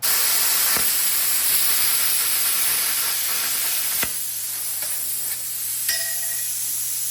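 An ArcCaptain Cut55Pro plasma cutter slicing through metal gives a loud, continuous hissing roar with a steady electrical whine, punctuated by a few sharp clicks, close by and alone.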